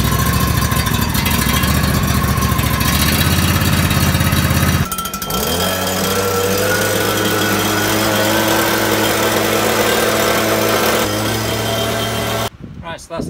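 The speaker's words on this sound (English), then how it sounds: "Let's just see how it turns over after changing all the filters and plugs and oil and everything." A freshly serviced John Deere X155R lawn mower engine cranks and catches, then settles into a steady, close, droning idle that runs for several seconds before it is cut off abruptly.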